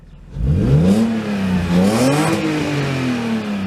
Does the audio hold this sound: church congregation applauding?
no